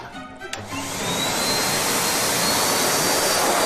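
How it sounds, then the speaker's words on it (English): A loud, steady roaring whoosh of a blow dryer drying a wet Japanese Spitz kicks in after a brief moment and keeps blowing close by. "with another blow dryer"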